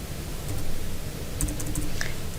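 Keys tapped on a computer keyboard to enter numbers into a calculator search, a few quiet clicks spread over steady room noise, with no one talking.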